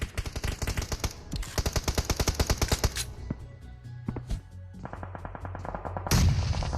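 Rapid bursts of gunfire in a competitive shooter game scrim, rattling in quick repeated volleys with short pauses between them, loud and without talk.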